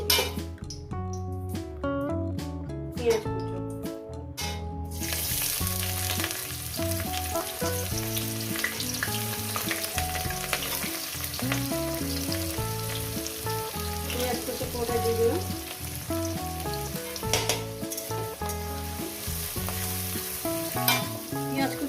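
Ingredients drop into hot oil for chicken bharta after a few clinks of utensils, then a loud, steady frying sizzle with occasional stirring continues for the rest, under soft background music.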